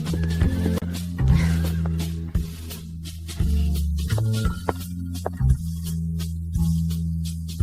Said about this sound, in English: There are horses over there.